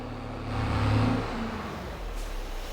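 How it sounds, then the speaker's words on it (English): A tractor engine in Farming Simulator 22 hums steadily at mid pitch, briefly swelling as it drives, then settling back into a continuous drone with no talking over it. "Move our tractor out of the way here."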